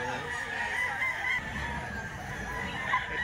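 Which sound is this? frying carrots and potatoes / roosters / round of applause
roosters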